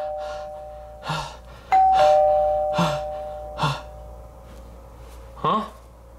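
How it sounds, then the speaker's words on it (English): A cartoon doorbell in a SpongeBob scene rings with a bright electronic ding-dong, set among short gasps and vocal exclamations in a quiet room. "Oh, come on, stupid doorbell."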